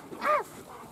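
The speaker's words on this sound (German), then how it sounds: "Hunde werden frech da hinten." A single short bark from a Rottweiler at an outdoor swimming spot in Thailand, heard a little way off and moderately loud against quiet surroundings.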